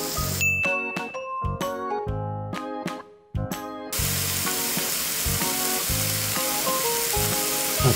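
Food fries in melted butter in a pan with a steady, loud sizzle, while bright plucked music notes play over the first half before the frying runs on alone.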